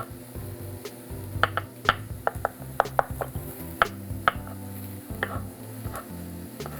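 Mushrooms stir-frying in a hot pan alongside other ingredients, a steady close sizzle broken by a rapid series of sharp knocks and scrapes from stirring, no talking.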